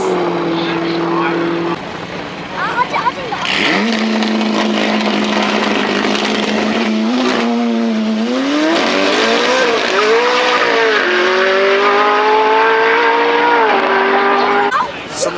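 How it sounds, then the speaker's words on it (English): Mitsubishi Evo race car roaring loudly as it takes off, engine note rising through gear changes with tire noise, heard at close range with crowd or commentary voices mixed in. "Wow, that Evo took off!"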